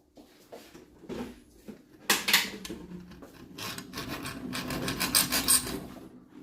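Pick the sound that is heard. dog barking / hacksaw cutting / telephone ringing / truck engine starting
hacksaw cutting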